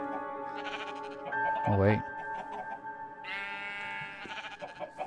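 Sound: sheep bleating in the video game Minecraft

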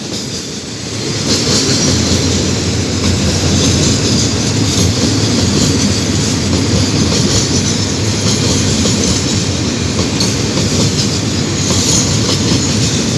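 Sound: crude oil freight train passing, Alsthom locomotive

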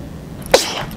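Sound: sneeze

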